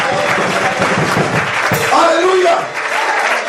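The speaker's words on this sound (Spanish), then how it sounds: "Vamos a dar un aplauso al Señor" A church congregation claps for the Lord during a Spanish-language sermon, with a shout of praise and voices mixed into the short burst of clapping.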